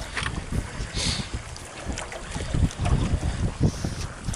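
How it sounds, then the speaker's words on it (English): Strong gusty wind buffets the microphone by the docks, heavy low rumbling blasts rising and falling throughout, loud and close. "It is way too windy out."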